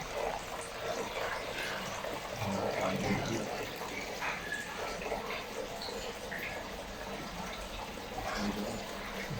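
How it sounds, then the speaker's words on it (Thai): A small waterfall, heard as steady rushing and splashing water that carries on without a break, fairly close, with faint background voices. "เข้ามามีน้ำตกน้อยๆ นะครับ"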